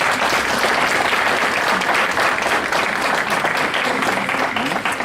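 An audience at a Democratic Alliance presidential event applauds with dense, sustained clapping that holds steady and loud for the whole stretch.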